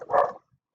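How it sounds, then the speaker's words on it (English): A single dog bark rings out close and fairly loud, one short burst that stops abruptly and leaves near silence. "pardon my dog"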